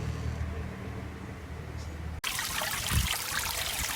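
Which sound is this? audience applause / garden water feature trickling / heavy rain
garden water feature trickling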